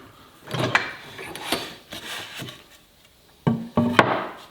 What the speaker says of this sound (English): So let's just pull it out right there. You can just kind of see, pushing it in.